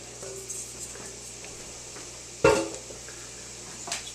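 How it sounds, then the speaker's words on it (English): Food and oil are stirred in a pan, giving soft scraping and a faint sizzle, with one sharp clatter of utensil on the pan midway and a lighter knock near the end. "So I'm going to stir that so we get some oil on all of that."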